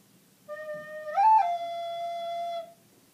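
A recorder plays the opening of a song: one held, breathy note rises briefly to a higher pitch and settles back, sustained about two seconds, close and clear with no voices.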